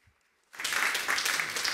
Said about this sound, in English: So give John Cook a round of applause